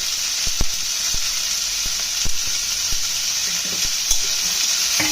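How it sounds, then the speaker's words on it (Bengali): Turmeric-dusted fish fries in hot oil in a wok and is turned now and then, a continuous close sizzle broken by sharp scraping clacks of a spatula against the pan. "আর এদিকে মাছ ভাজা হচ্ছে"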